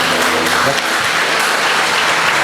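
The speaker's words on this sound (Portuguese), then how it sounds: "Pode dar uma salva de palmas para o Senhor" Congregation applauding in a church service, dense continuous clapping filling the space at steady loudness throughout, with no talk over it.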